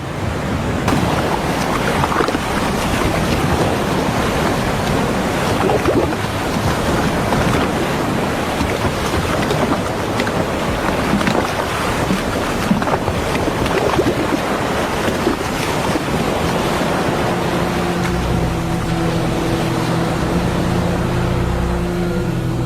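Choppy cold sea with waves churning and slapping, heard as a constant loud roar of water mixed with heavy wind buffeting the microphone throughout, with a faint low tonal hum appearing near the end.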